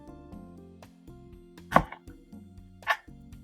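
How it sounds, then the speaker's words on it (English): A knife slices through a peeled onion that has been halved down the center, giving two distinct crisp cuts against the board over a low steady background hum. "this onion has been peeled, sliced down the center, and then we are going to slice"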